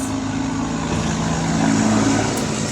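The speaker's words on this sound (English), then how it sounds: "Sorry about the noise. I'm on a busy street." Constant dense roar of passing vehicles, a steady wash of traffic noise with a low engine hum and no clear gaps.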